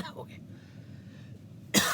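A single short, sharp cough bursts out at the very end after a quiet stretch, close to the microphone.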